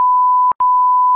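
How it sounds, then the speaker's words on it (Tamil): A steady, loud electronic censor bleep runs through the whole stretch, with one brief gap near the middle and no voices audible. "நாங்க பீப் போட்டு சமாளிச்சுப்போம்."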